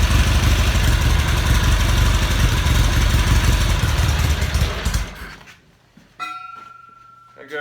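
Norton Commando motorcycle engine idling too high with the choke half on while its carburettors are balanced, a loud, steady, close idle that runs for about five seconds, then dies away to near quiet with a faint tone.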